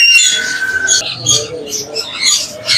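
A pair of chattering lories calling at a Sunday bird market in Bahawalpur, loud close squawks and chirps in overlapping bursts, with other bird calls around them.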